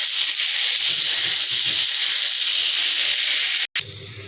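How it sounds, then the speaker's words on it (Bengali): Potatoes fry in a small amount of fish oil, giving a steady, close, dense sizzle that holds for about four seconds, breaks off for a moment near the end, then resumes more faintly. "আলুগুলো ভাজা হয়ে গেছে,"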